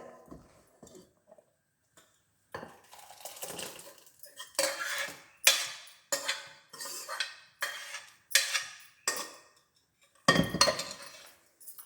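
Metal utensils clink and scrape against a metal vessel in a quick, irregular series as thick pasi paruppu payasam is spooned across, close by and fairly loud.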